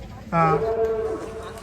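A bull at a bullock-cart race track gives one short, deep moo close by, loud and abrupt, over low background murmur.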